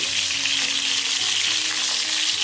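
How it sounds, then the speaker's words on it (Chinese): Slices of winter melon stuffed with meat pan-fry to a golden crust in a steady, bright sizzle that holds at an even level throughout, with a faint tonal hum in the background. "将冬瓜煎至两面金黄焦香"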